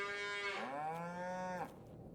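A single cow in the Farming Simulator 22 video game lets out one clear, drawn-out moo lasting under two seconds, close and alone, in a quiet farm setting.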